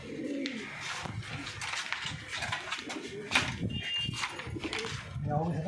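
Yellow pigeons coo softly nearby in repeated throaty phrases, with some faint background voices and rustling.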